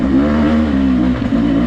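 A Yamaha four-stroke dirt bike revs hard on a moto course, its engine holding a loud, steady high-rpm drone with a brief dip and surge near the end, close to the microphone.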